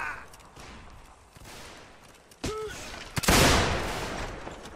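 Gunfire in a North and South war video game, a few sharp shots followed by a loud sustained burst of fire, heard alone without talk.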